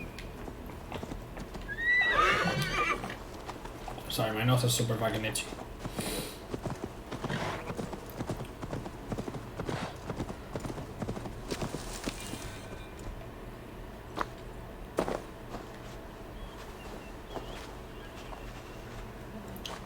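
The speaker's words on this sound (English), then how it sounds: "Can I call on a horse?" A horse in Assassin's Creed Valhalla gives sharp whinnies and snorts, then hooves clip-clop at a walking pace amid game ambience, with someone talking briefly over it.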